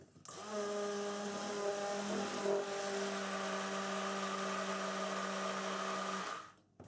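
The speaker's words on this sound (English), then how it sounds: "We're going to use the stick blender to work all of this in." A stick blender whirs steadily for about six seconds mixing cold process soap, a high motor hum with a brief wobble midway, then cuts off.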